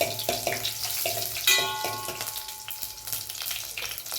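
Two dried red chillies and a broken green chilly sautéing in oil for tomato rasam, a loud continuous crackling sizzle with a few spatula knocks and a sharp spike around the middle, no speech.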